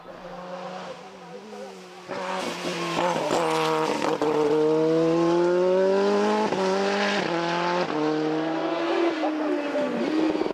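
Simca CG Turbo rally car at a hillclimb race in Dunières, production class, engine rising through gears from moderate to loud as it passes close, with a commentator talking over it.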